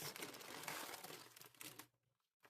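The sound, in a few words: crinkling plastic packaging of a cross stitch kit being opened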